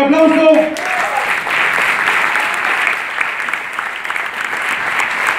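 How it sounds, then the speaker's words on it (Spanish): Loud, sustained crowd applause in a theater after a dance performance fades out, filling several seconds with an even roar of clapping. "así que fuerte el aplauso"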